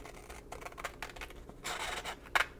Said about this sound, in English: I'm going to cut just a thin strip of sandpaper